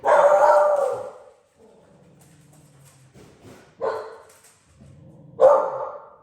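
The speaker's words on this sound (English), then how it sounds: "that would be my dogs barking" Dogs bark in short bursts, three loud barks separated by pauses filled with softer whining and yips, fairly close.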